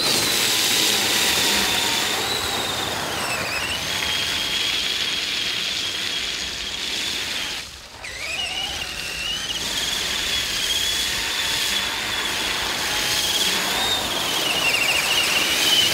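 A 1/10th scale Traxxas Summit 4x4 RC truck running full throttle through a mud bog, with a loud continuous high-pitched motor whine that shifts in pitch and briefly dips midway before resuming.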